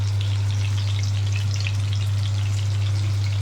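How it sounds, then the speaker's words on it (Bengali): A chicken cutlet fries in hot oil until crispy brown, giving a steady dense sizzle and crackle with a low constant hum underneath, close and loud without a break. "ততক্ষণ ভাজতে হবে যতক্ষণ একটা ক্রিস্পি ব্রাউন লেয়ার না হয় এটার উপর, এবং আমাদের চিকেন কাটলেট রেডি হয়ে যাবে।"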